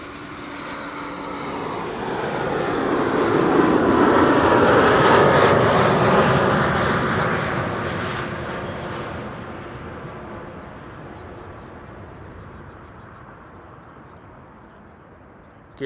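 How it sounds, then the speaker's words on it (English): An Austrian Airlines Bombardier C-Series jet at Amsterdam Schiphol Airport roars past, its broad engine rumble swelling to a loud peak and then fading slowly into the distance, with no voices. "Lovely to see that Austrian is also flying the beautiful Bombardier C-Series."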